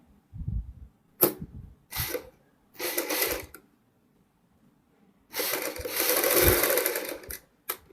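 A sewing machine stitches corded piping along the neckline of a suit, running in several short bursts separated by silence, then one longer run.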